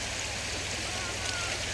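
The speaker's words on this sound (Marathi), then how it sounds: "भरपूर चाललंय पाणी." Water flowing in an irrigation canal running full: a constant, dense rushing roar that holds steady and loud throughout, with no talking.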